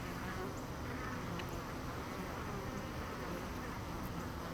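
Honey bees drone in a bee yard as foragers bring in pollen, a faint, continuous, even buzz of many insects with no voices.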